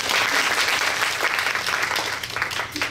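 An audience at an education seminar forum bursts into sustained, dense applause, many hands clapping steadily throughout at a fairly loud level.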